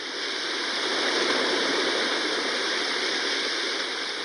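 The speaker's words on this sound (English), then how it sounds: "I guess that's like the ocean." A baby sound machine plays its ocean setting, a steady broadband rush of surf-like noise that stays even and fairly close throughout, with no voices.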